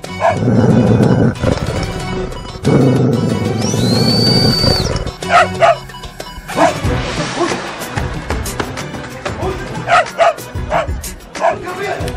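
A dog barks in short, sharp bursts with yips and whimpers, mixed with loud voices talking in a television comedy scene.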